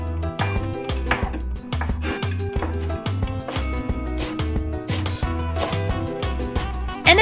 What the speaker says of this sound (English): I'm chopping tomatoes into smallish pieces.